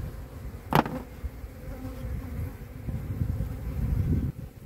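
Honeybees buzz around an open hive in a weak colony, a continuous low drone close by with a sharp knock near the start and wind brushing the microphone.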